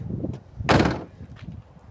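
Rear barn door of a Volkswagen Grand California camper van, built on the Volkswagen Crafter, swung shut in one solid, loud slam, with faint background noise before and after.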